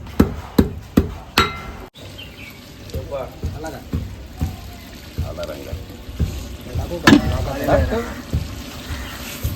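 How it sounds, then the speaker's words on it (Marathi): Whole spices are pounded in a mortar and pestle for a mutton dish, giving a quick run of sharp, close thuds at the start. Softer knocks follow while a voice talks over them. "खडा मसाला आपला टाकलेला आहे त्याच्या खलबत्त्यामध्ये"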